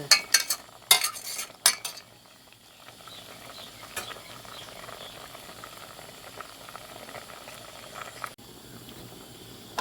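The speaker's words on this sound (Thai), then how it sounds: "เปิดฟ้าอาเดือดแล้วค่ะเพื่อน เดือดแล้วเดือดแล้วนะคะ" Pot of Thai tom kha gai soup at a boil, a soft steady bubbling and hiss after a few louder clatters of stirring or handling at the start, fairly close with no talk.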